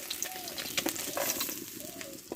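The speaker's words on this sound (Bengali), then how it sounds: "এবার কেটে রাখা কচুটা আমি এই তেলে ভালো করে কষে নিয়েছি" Chopped taro fries in oil in a pan, giving a soft continuous sizzle with light stirring ticks, while faint bird calls chirp in the background.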